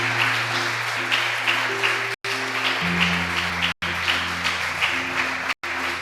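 A church congregation applauds in continuous, dense clapping that cuts off briefly three times, with sustained musical tones underneath.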